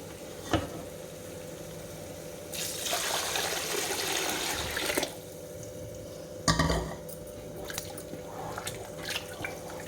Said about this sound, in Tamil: பாருங்கள், 2 லிட்டர் தண்ணி சேர்த்துருக்கேன்.